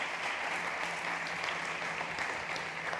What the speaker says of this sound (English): So please, big applause for Ibon.